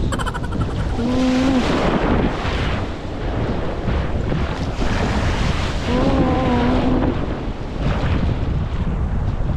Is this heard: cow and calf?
no